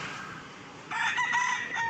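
A free-range village rooster crows partway through, a bright, strained call over a quiet outdoor background.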